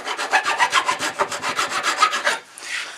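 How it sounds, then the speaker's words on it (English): The coarse side of a hand file is pushed back and forth across the wood of a storage cabinet in about fifteen quick, even, close rasping strokes, followed by a brief pause. "take my file, not the rasp side, but just the coarser file side"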